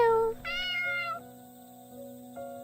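A cat meows in a horror adventure game set in a rainy forest, a clear harmonic yowl lasting under a second near the start, followed by a quieter short mew later over a steady ambient game drone.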